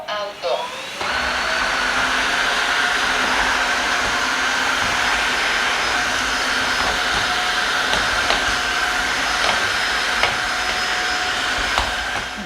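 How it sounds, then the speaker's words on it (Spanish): A Tineco wet-dry vacuum cleaner mopping the floor in auto mode makes a steady, loud motorized whir with a high whine after a brief start-up, with faint clicks and shifts as it moves across the floor. "Esta aspiradora, pues que a la vez friega el suelo."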